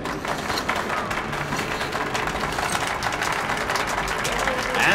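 A theater audience applauds in Metro Last Light, a continuous, dense patter of clapping that holds at a steady loudness throughout.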